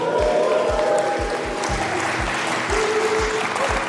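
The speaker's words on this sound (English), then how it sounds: "I'd like the audience to give a cheer to prove to our listeners that we are indeed at a live recording" A live podcast audience applauds and cheers, dense clapping close to the microphone with a few whoops and shouts on top, sustained throughout while rhythmic low thumps, likely stomping, recur underneath.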